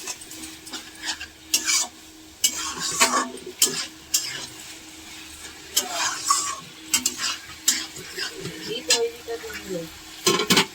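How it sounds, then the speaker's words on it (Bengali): Shredded cabbage cooked with sugar in a pan for a vegetarian home-style dish, stirred with repeated scraping strokes over a low sizzle while a voice speaks in the background. "চিনিটা দিয়ে আমি একটু নেড়ে দিই"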